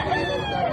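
A rooster crows at a poultry market in Batangas, a single close, loud crow heard clearly on its own.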